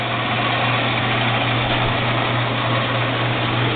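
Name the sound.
gear head band saw motor running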